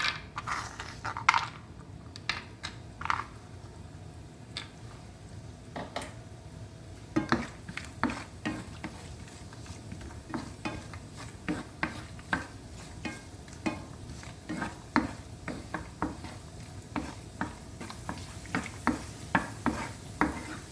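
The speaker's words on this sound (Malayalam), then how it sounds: "അതുപോലെ തന്നെ നമുക്ക് കാഷ്യൂനട്ടും വറുത്തെടുക്കാം." Cashew nuts frying in a pan for Kerala-style ghee rice, soft background sizzle with repeated sharp clicks and scrapes of a spoon stirring against the metal, irregular and close, no talk.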